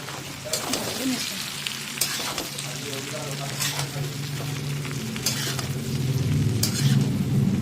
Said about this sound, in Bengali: এই সময় দেখুন দিয়ে দিচ্ছি কুচিয়ে রাখা বাঁধাকপি